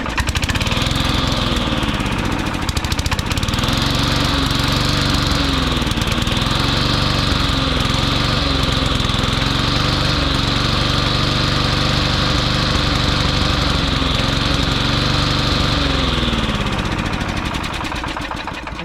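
A Briggs & Stratton engine on a Cooper Cyclo-Mo 20A moped runs steadily and loudly close by, a continuous buzzing small-engine drone with slight wavering in pitch, no talk, tapering off slightly at the very end.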